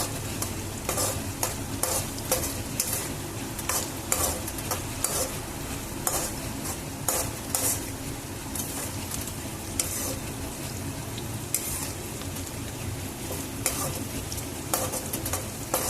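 Salted onions frying in a pan for vegetable semolina upma give a constant close sizzle, with frequent scraping stirs throughout and no talk.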